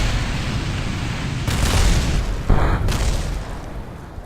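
Rocket boosters fire and blow apart on a spaceplane in Kerbal Space Program, a rumbling roar with two sharp bursts of explosive noise in quick succession, loud and close, no talking.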